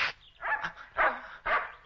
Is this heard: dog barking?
yes